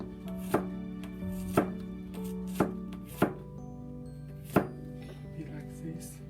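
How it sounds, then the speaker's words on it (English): A knife chops garlic on a cutting board in five sharp, separate strikes spaced about a second apart, close and clear over a steady low background hum. "we cut the garlic"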